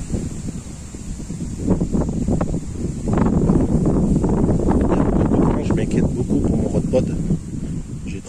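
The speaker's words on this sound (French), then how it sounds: "Beaucoup, beaucoup, beaucoup de vent." Strong wind buffets the microphone at a carp-fishing spot, with a steady, heavy low rumble and gusty roar throughout, swelling louder midway.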